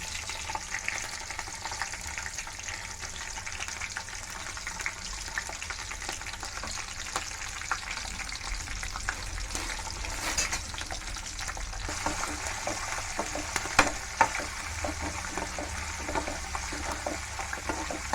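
Peanuts fry gently in oil on low heat for pulihora, a steady soft crackle and fizz that keeps going without pause, fairly quiet and close, with no voices.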